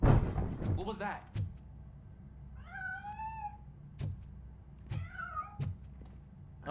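A cat meows twice in the video game RoboCop: Rogue City, two clear separate calls over low background game ambience, with a few dull thumps and a brief voice near the start.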